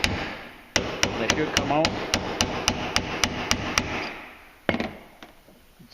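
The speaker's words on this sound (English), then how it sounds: "just tap it out of there" Hammer tapping a part out of a Polaris ATV primary clutch during a rebuild: about a dozen sharp, evenly spaced metallic strikes close by, then a pause and two more hits, with brief talk near the end.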